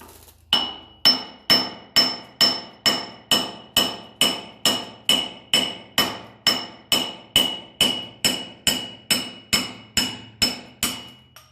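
A hammer strikes a stuck part on a 1954 Ferguson TEF 20 diesel tractor in a steady, evenly spaced series of about two dozen loud, ringing blows, each with a short metallic decay.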